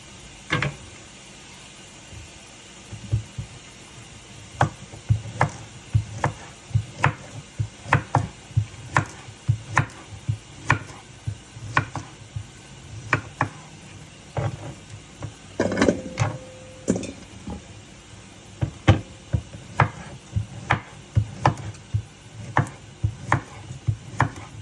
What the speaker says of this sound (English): Gonna cut up the vegetables now.